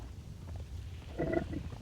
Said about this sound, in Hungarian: Valaki böfög?